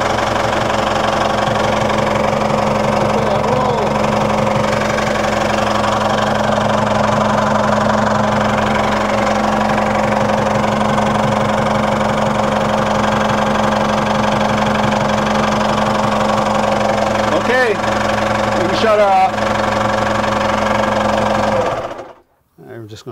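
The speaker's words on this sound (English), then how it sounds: "we'll be ready to fire the engine" A Volvo Penta engine idles after an oil and filter change, a loud, steady, rhythmic droning hum that runs evenly for about twenty seconds, then cuts off abruptly near the end.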